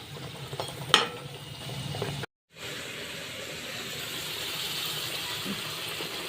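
Spicy puris frying in hot oil give a steady low bubbling sizzle and hiss, faint and continuous, broken by a brief dropout and one small clatter near the start.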